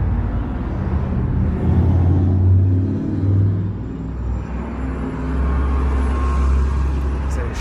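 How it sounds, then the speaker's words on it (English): A city shuttle bus rumbles past on a busy street, its low engine drone swelling and fading as it goes by, close and steady, under light traffic noise. "Shuttle bus."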